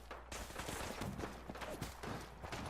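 High-tech laser weapons in Fallout 4 fire in a quick, dense volley of bright zapping shots, fairly faint and distant, with no talking heard.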